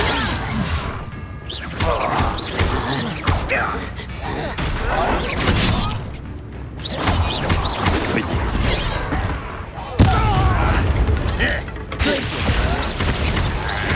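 Confringo blasting spells explode during loud Hogwarts Legacy combat, with a dense run of crashing, shattering bursts and mechanical clatter that fills the whole stretch at close range.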